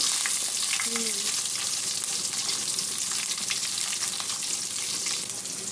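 Onions, green chilies and curry leaves fry in a pan, a steady close sizzle with crackling pops throughout, softening slightly at the end, with no talking.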